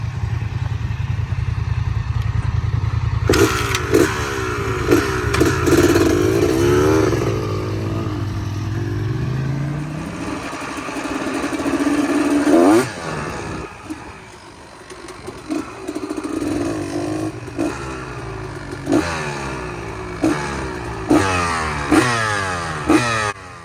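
A CR250 three-wheeler idles, then revs hard and takes off on dirt, spinning its tires. Loud, close bursts of two-stroke revving rise and fall repeatedly with clattery engine noise and shifting pitch between the blips.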